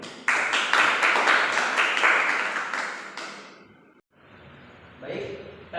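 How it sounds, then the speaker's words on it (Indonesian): Classroom applause from students after a classmate's correct answer, dense clapping for about three seconds that fades out, followed by a teacher's voice resuming. "Tepuk tangan dulu buat kamu"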